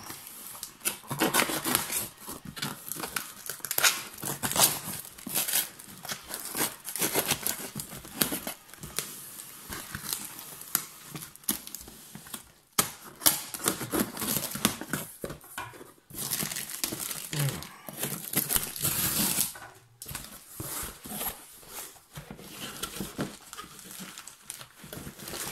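Close crinkling and rustling of packaging as a parcel holding an X-Men comics artbook is unwrapped, with bursts of crackling paper and plastic continuing for the whole stretch and no talk.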